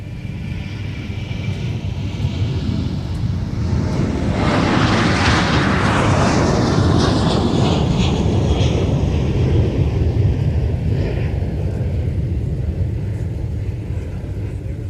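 A United airliner on runway 30 left at MSP airport, a loud, broad engine roar that swells as it passes and then eases off into a lingering rumble.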